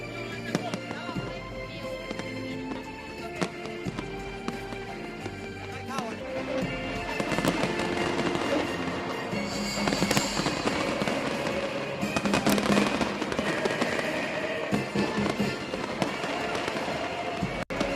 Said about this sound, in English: Qatar's New Year Eve was also marked with fireworks and a drone show